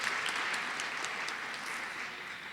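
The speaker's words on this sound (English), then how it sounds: "Let's give them another round of applause." Steady, fairly faint applause from an audience at a graduates' pinning ceremony, a dense wash of many hands clapping that fades slightly toward the end.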